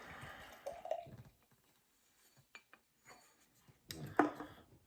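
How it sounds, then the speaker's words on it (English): Shaken non-alcoholic beer is poured into a cup, giving quiet trickling and liquid splashes with light glass and container clinks, in faint bursts separated by near-silent pauses. "we'll give the rest of this a good shake and we'll pour that into our second cup"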